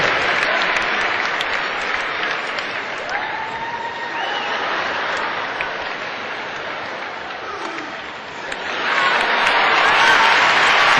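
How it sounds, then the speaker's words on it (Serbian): A large indoor arena crowd at a tennis exhibition featuring Novak Đoković applauds steadily and loudly throughout, swelling stronger toward the end, with a few faint whistles and calls over the clapping. "veliki aplauz"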